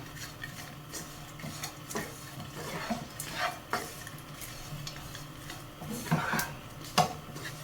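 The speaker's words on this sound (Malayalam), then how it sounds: "ഇനി ഇതിനെ നമുക്ക് നല്ലതുപോലെ ഇളക്കി മസാലയുടെ കൂടെ മിക്സ് ചെയ്തെടുക്കാം." Okra masala fry stirred in a pan with a spoon, soft scraping and clinks at irregular intervals over a faint steady sizzle, close and fairly quiet.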